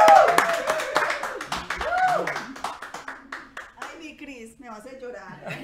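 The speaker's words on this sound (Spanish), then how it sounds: "nos den y la reciban con un grandísimo aplauso" A studio audience at a talk show claps in a brisk rhythmic patter that thins out over several seconds, while a host talks over the applause.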